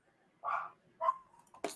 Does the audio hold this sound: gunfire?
no